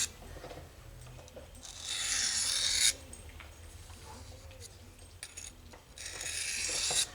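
A knife edge being drawn across an Eze-Lap diamond sharpening stone to shear off the burr: two distinct gritty rasping strokes, each about a second long, close and fairly loud, separated by softer scraping and handling sounds.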